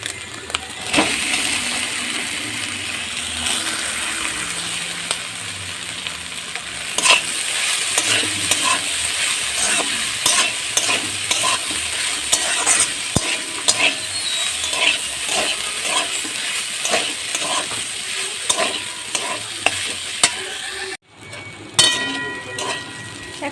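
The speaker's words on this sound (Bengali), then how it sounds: "ভাজা হয়ে গেছে আমি এবার পাঁচফোড়ন দিয়ে দেবো" Food fries in a pan before panch phoron goes in: a loud, close sizzle with frequent scraping and clattering from stirring, and a brief dip near the end before the sizzle resumes.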